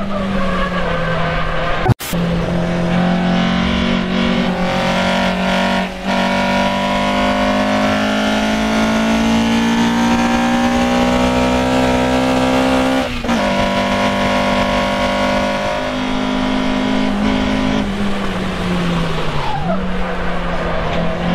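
A car with a freshly rebuilt engine, fitted with titanium valve springs and retainers, drives and revs hard, its loud, rising engine note climbing and falling through gear changes with a sharp thump near the start.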